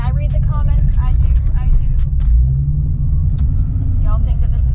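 A Ford Foxbody Mustang rumbles steadily from inside the cabin while driving down the road, a loud continuous low engine and road drone with someone talking over it.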